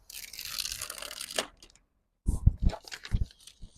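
Window tint film being cut on a Tesla Model X, a sustained scraping slice followed after a pause by several sharp crisp crunches and crinkles of the film, close and fairly loud.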